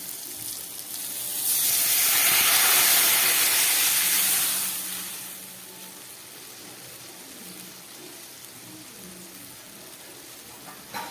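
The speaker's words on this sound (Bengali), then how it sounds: "এবার আমি জল দিয়ে দিচ্ছি।" Water poured into a pan of hot, fried spiced masala for a rohu fish curry, giving a loud steaming hiss and spray that swells for a few seconds, then fades to a quieter simmering bubble.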